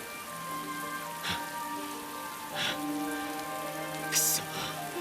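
Steady rain patters in the Atelier Ryza 2 video game, a continuous hiss of drops under soft held music tones, with a few brief brighter splashes.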